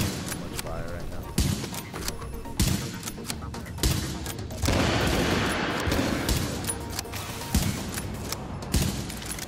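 Gunfire in The Division 2 video game at World Tier 5 in Hudson Refugee Camp, with rapid bursts of shots and impacts layered over dense game effects while a player talks throughout.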